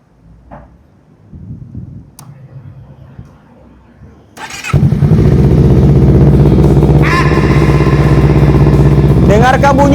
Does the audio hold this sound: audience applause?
no